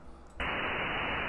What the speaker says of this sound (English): I'd like to now do a white noise test